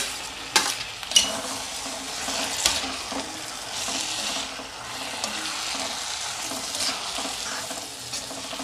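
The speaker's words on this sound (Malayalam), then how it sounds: "ഈ വഴറ്റി വെച്ച ഉള്ളിയിലേക്ക് പൊരിച്ച് വെച്ച ചെമ്മീൻ ഇട്ട് നല്ലവണ്ണം ഒന്ന് മിക്സ് ചെയ്യാം." Fried prawns stirred into sautéed onion masala in a pan for prawn biryani, giving a steady close sizzle with scraping stirring strokes and a couple of sharp utensil clicks near the start.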